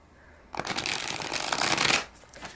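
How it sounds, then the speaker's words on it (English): Stiff tarot cards are shuffled in one steady burst lasting about a second and a half, a dense papery flutter up close with no talking. "So it shuffles beautiful. You can riffle shuffle it if you want."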